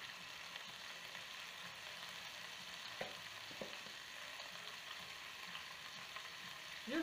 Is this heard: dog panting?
no